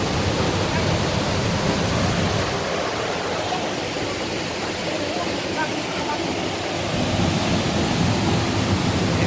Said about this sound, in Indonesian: Inilah situasi keadaan air terjun Dua Handoi di wilayah Kecamatan Alasa, Kabupaten Nias Utara.